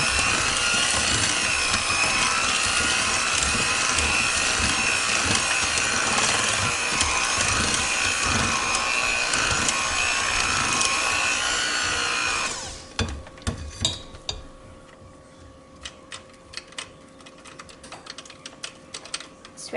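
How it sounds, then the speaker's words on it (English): An electric mixer blends an egg into vanilla bean pound cake batter, a loud steady motorized whir for about twelve seconds before it cuts off, leaving scattered light clicks and knocks. "So there's one egg, and we're going back to the mixer. Get this blended in."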